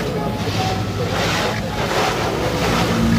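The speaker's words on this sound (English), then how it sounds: "middle of a car wash" Dense, steady rush of water spray and roaring jets inside an automatic car wash, heard from within the car, loud and continuous with a low rumble underneath.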